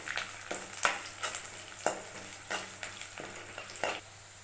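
Onions and curry leaves sautéing in a pan for a Tamil brinjal masala, a steady close sizzle punctuated by sharp scraping stirs of the spatula, with no talking.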